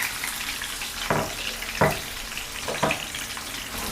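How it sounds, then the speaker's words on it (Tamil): Crushed garlic sautés in hot oil with curry leaves in a pan for Sankara fish gravy, a steady sizzle with a few brief scraping stirs rising and falling, no voices. "போட்டு கொஞ்சம் பூண்டு கலர் மாறுற வரைக்கும் வதக்கிக்கணும்"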